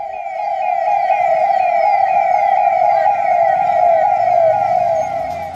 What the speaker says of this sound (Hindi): सायरन बजाती पुलिस की गाड़ियां